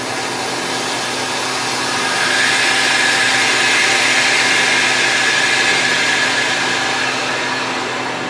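A Harvest Right freeze dryer gives a steady, loud, close whooshing hiss as its vacuum pressure equalizes, swelling slightly partway through and holding constant with no talk.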